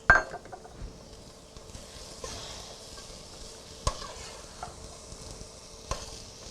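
Shredded green cabbage and carrot coleslaw mix cooking down in a pan, a soft steady sizzle with occasional stirring scrapes and a couple of sharp utensil clinks against the pan.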